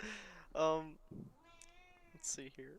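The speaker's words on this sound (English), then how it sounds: "Meow. Sorry, that's my cat." A pet cat meows several times during a podcast recording, with drawn-out, wavering cries close to the microphone. Someone speaks briefly between the meows.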